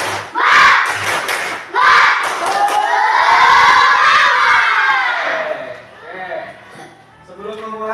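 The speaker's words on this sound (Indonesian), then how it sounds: "Kita mulai, tepuk semangat." Indonesian elementary schoolchildren in a classroom perform the tepuk semangat clapping chant, shouting together in loud bursts with a clap-driven rhythm that swells into sustained group yelling before trailing off.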